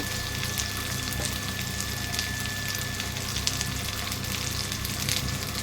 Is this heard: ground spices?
yes